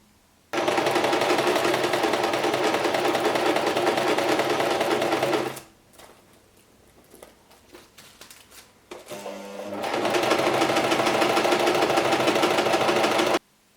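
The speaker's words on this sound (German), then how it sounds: "können wir das Ganze mit einem halben Zentimeter Abstand vom Rand mit der Nähmaschine" A sewing machine stitches fabric for a baby's crinkle sheet, sewing half a centimetre from the edge. The whirring runs loud and steady for several seconds, pauses with some handling noises, then starts up again.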